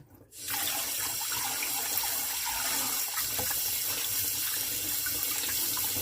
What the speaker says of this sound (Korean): 당근도 깨끗하게 씻어줍니다.